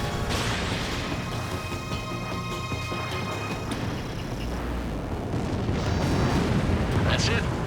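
An enemy bomber blows up after being shot down in the combat flight game Ace Combat 7, a loud, sustained rumbling boom under constant jet and battle noise, with a sharper crash near the end.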